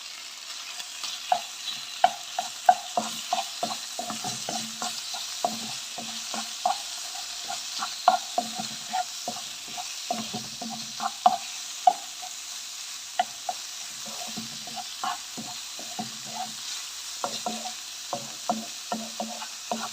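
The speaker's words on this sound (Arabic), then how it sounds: "غنبقى نحرك" Chicken breast with spices sizzles in hot oil in a pan while being stirred, a steady soft frying hiss punctuated by repeated light scraping and clinking of the utensil against the pan.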